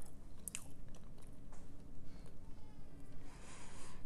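Someone bites into and chews a peanut butter cookie stuffed with peanut butter, giving close, soft crunching and mouth sounds over several seconds.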